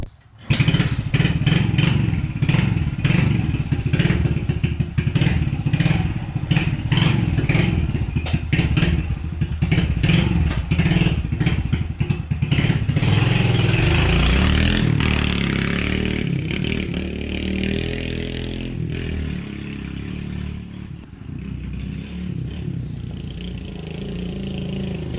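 A rebuilt 20-year-old pitbike motorcycle on a test ride, its engine loud and close throughout, revving and droning with clattering mechanical noise, then easing to a steadier, slightly quieter run toward the end.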